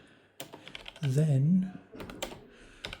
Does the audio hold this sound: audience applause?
no